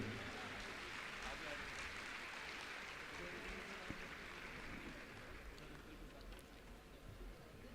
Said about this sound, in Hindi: इन बच्चों की प्रतिभा पर सिर्फ ताली बजाकर अपना आशीर्वाद दे दीजिए